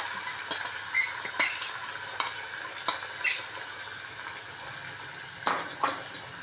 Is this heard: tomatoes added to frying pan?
yes